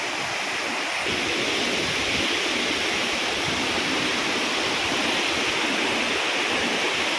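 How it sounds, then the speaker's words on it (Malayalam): Rushing water roars from Njandirukki Waterfall in the monsoon season, a dense, steady broadband wash that stays loud and constant throughout, with no voices. "ഇതാണ് ഞണ്ടിറുക്കി വെള്ളച്ചാട്ടം എന്ന് പറയുന്ന സ്ഥലം"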